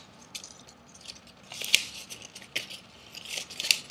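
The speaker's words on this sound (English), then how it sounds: "let's hear what the knife has to say on the paper" A freshly sharpened, fine-edged kitchen knife slices through paper in several crisp, hissing strokes. The strokes come in irregular bursts, close and fairly quiet, with the sharpest cuts near the middle and at the end.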